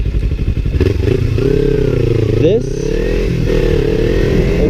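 Loud, close motorcycle engine braking while downshifting, the engine note dropping and rising with each gear change, plus a brief spoken word.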